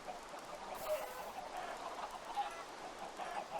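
Chickens clucking in the Minecraft FTB Agrarian Skies modpack, a soft, steady stream of game clucks and squawks at low volume with no talk.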